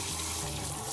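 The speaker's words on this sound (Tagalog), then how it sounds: "So, rinse them with cold water." Cold tap water runs steadily into a kitchen sink while ingredients are rinsed for a clear stock, a close, continuous splashing flow with no talk.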